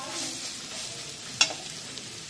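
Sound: spices frying in a pan on low flame

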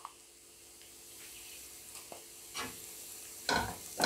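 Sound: sautéing egg curry masala with garam masala in pan

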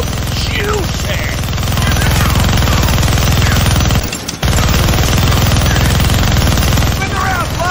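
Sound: minigun firing in the Deadpool video game

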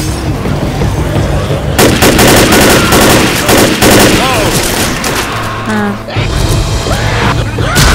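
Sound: auto shotgun gunfire in Left 4 Dead video game

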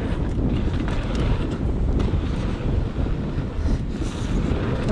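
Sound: wind blowing against a freerider

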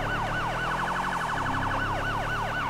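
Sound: police car siren in GTA V roleplay video game

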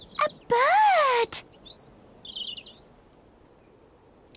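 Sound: robin singing

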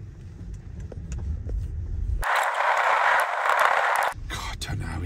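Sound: vehicle driving down a rough track

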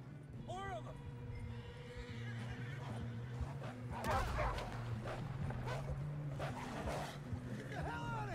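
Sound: wolves snarling in video game Red Dead Redemption 2

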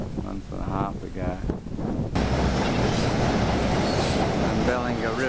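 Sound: train passing

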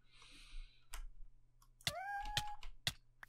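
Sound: cat meowing in a video game

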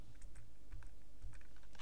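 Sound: pressing the escape key on a computer keyboard

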